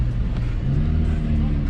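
An EF-generation hatchback with very soft, squishy brakes pulls away, its low engine drone steady and close throughout, with faint voices in the cabin.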